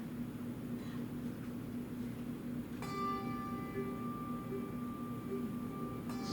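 A large handbell struck at about 2.8 s in an echo ring, its bright tone sustaining with steady partials over a low background hum, then a second bell stroke near the end.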